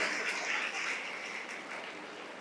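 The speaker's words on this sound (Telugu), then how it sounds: "విద్యార్థులంతా గట్టిగా చప్పట్లు కొట్టాలి." Students clapping together at a school event, a dense continuous patter of many hands at moderate loudness, holding steady through the moment with no voices over it.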